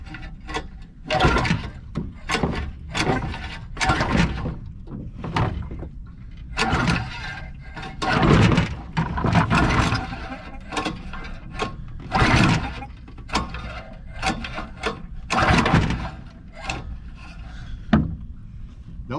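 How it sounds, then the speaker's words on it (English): An old engine that has sat unused for a long time, cranked over again and again with heavy kickback and failing to catch; a run of loud, uneven mechanical bursts separated by short pauses, close by. "You can tell it hadn't been cranked in a long time."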